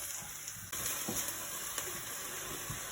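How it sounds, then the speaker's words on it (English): Soft, continuous sizzle of minced meat frying in a pan for moussaka, with a few light scrapes of a utensil, quiet and close, no talking. "we've been frying this now for about 5 minutes"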